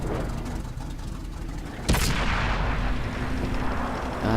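A tank cannon fires once in a World of Tanks console battle, a sharp loud boom cutting through the constant engine rumble of the tank.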